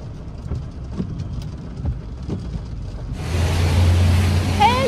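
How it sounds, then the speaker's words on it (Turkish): Heavy rain starts abruptly and hisses steadily and loudly around a vehicle, after a quieter stretch of muffled interior rumble, with faint voices in the background. "Çok fazla yağmur var."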